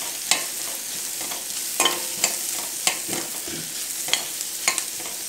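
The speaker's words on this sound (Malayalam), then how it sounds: "സവാള നന്നായിട്ടൊന്ന് വഴന്ന് വരണം." Onions with turmeric sautéed in a pan for squid masala, a steady sizzle broken by repeated sharp clicks and scrapes of a spoon against the pan, close with no talk.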